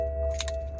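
Keys jangling with a brief metallic clinking as a BMW N54 car is powered down, heard close over a steady low engine hum and a constant electronic tone.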